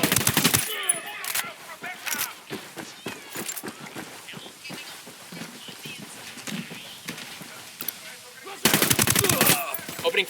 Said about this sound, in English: firing submachine guns